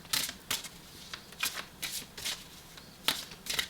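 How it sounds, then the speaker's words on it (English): Someone shuffles a deck of cards close by, making a quiet series of about eight crisp, papery bursts at a steady, slightly uneven rhythm over a soft background, with no talking. "So I'm just going to shuffle these."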